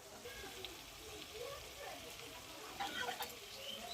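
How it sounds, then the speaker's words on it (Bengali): Biryani masala being stirred into a cooking pot gives soft scraping and a faint sizzle, quiet and close, with light clinks of the spoon near the end. "এবার এটাকে আমরা ভালো করে নাড়বো।"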